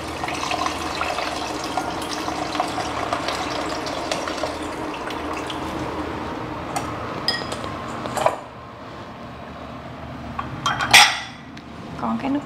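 Water poured into a cooking pot of beef stew in a home kitchen, with pots and utensils clinking near the end; the steady pour runs for several seconds and a brief metallic clatter follows.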